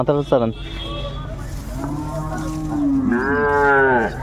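A Sahiwal heifer at a Sylhet cattle market lets out loud, close, drawn-out moos that rise and fall. A brief voice is heard at the start.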